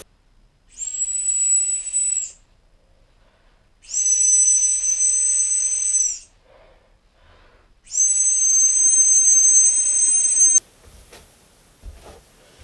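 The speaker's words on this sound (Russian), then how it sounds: "сейчас проведу ритуал со свистком." A whistle is blown at night inside a house in three long, steady, shrill blasts separated by short silences, followed by a few faint bumps.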